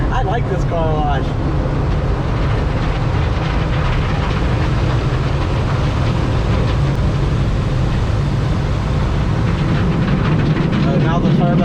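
Automatic car wash machinery runs loud and close around a van, with a dense continuous roar of spraying, brushes and blowers, and brief voices at the start and end.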